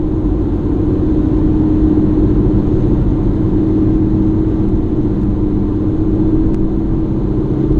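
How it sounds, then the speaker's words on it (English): A silver Toyota Celica GTS passing on a road, a steady close rumble and whir of engine and tyres that holds evenly throughout, with no voices. "There's a silver Celica coming."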